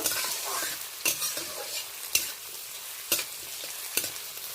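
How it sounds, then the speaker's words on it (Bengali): Chopped onion stirred and fried with tempering spices in a pan over a low gas flame, a steady sizzle broken by a spatula scraping through the pan about once a second. "ফোড়নের সাথে পেঁয়াজটা বেশ ভালো করে নেড়ে চেড়ে নেব।"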